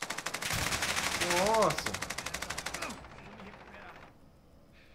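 Rapid automatic gunfire in a Call of Duty Warzone match, a dense loud burst of shots for about three seconds that then thins and fades, with a player's voice exclaiming briefly over the firing.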